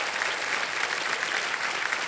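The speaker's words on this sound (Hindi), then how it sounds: "एक बार फिर से जोरदार तालियां बज जाए" Steady, loud studio audience applause on a televised quiz show, dense uniform clapping throughout.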